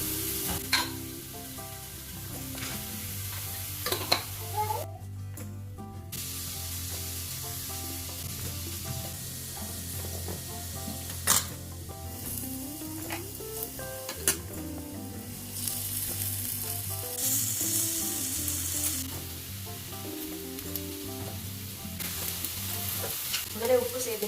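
Peanuts fry in oil in a pan with a steady close sizzle, stirred now and then with scraping clinks, continuous for the whole stretch without talk.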